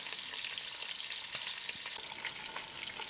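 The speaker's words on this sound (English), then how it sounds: "Use tongs to brown all the sides of the quails nicely, as I'm doing here." Quails sizzle and brown in a pot of hot fat, turned with tongs so every side colours, giving a steady close frying hiss with small crackles and pops throughout.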